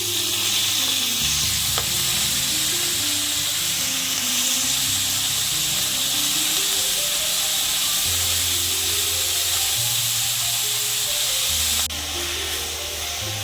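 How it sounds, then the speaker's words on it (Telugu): Red baddaku leaves stir-fried in a pan with turmeric for curry, a loud continuous sizzle and steamy hiss close up, with a spatula scraping rhythmically through it. "ఇప్పుడు మనం ఎర్రబద్ద ఆకుని వేసేసుకోవాలండి"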